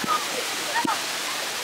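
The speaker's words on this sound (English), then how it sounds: "I don't even know if y'all can hear me because it's the water. The water's so loud." Loud waterfall at Rutledge Falls, a steady broadband roar of rushing, splashing water filling the whole clip, with faint voices partly buried beneath it.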